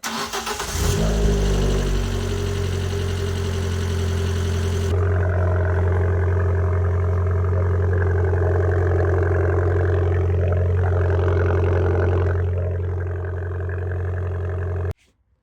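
An Abarth 595 Pista engine cranks and catches, then settles into a loud, steady idle with a deep low hum that holds for several seconds before the sound cuts off abruptly at the end.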